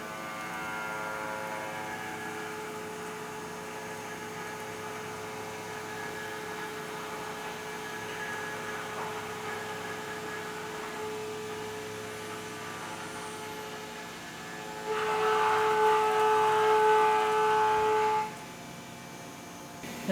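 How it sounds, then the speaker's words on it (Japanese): A CNC machine cuts a hole with a high-end Sandvik end mill after drilling a pilot hole. A steady whining hum with tonal spindle lines holds throughout, and a louder, brighter burst of cutting noise comes near the end. "下穴を開けて繰り広げる形で穴加工をねやっていきたいと思います。"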